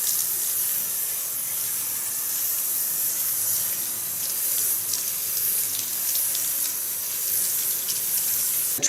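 Water runs steadily from a salon sink sprayer while hair is rinsed, a continuous close hiss and splash with no break and no talking.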